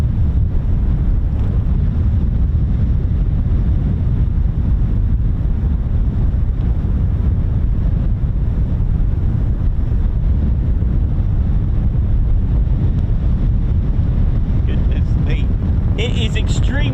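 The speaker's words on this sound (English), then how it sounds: "It is extremely windy." Strong wind batters the microphone at an airfield where F-35B jets operate, a loud, unbroken roaring buffet that lasts throughout and swamps any other sound.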